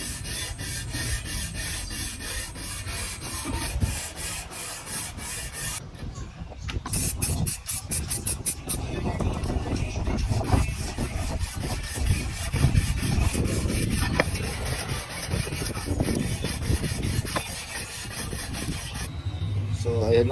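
Ford Everest 2.2 engine block deck being resurfaced by hand, a steady rasping rub that carries on for the whole stretch with rhythmic strokes and scraping, fairly loud and close, with no talk over it.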